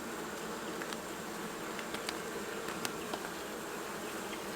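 Honeybees buzz steadily around an open hive during an inspection, a dense close hum with sharper individual bees darting past the microphone.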